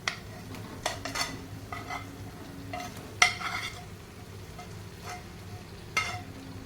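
Chicken tossed into frying masala for butter chicken sizzles gently while a utensil clanks and scrapes against the pan in scattered, sharp strikes, the sharpest near the middle.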